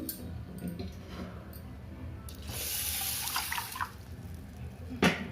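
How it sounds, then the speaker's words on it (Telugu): Water splashes and pours into a cooking pot for vegetables in uneven bursts, with a few clinks and a sharp knock near the end. "దీంట్లో వాటర్ వేసుకోవాలి"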